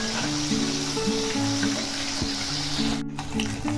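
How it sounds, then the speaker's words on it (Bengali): Fish fry in hot oil in a pan, a continuous moderate sizzle and crackle with a little stirring, while a steady tonal hum runs underneath. "অন্য পাঁচটা ভেজে নেবো ভালো করে"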